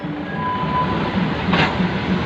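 A train at Nakhon Lampang railway station during its 107th anniversary celebration, heard as a steady rumble of rolling rail cars with a brief hiss partway through, continuous and moderately loud with no talking.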